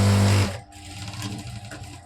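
A sewing machine stitches the edges of a hook band, a loud close whir that stops abruptly after half a second and gives way to quieter handling noise.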